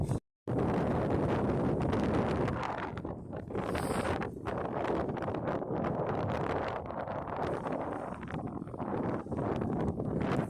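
Strong wind buffets the microphone on a windy day during a bicycle tour, a loud continuous roar with gusting swells and a brief dropout near the start.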